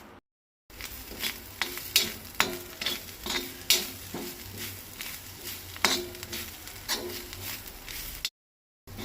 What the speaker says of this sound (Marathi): बारीक गॅस दवरून सोय आनी कांदो बरो भाजून घेवपाक जाय।